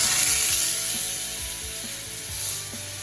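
Ribeye steak sizzling steadily in hot cooking oil in a skillet, a loud, even hiss with faint low clicks and pops underneath, no voices.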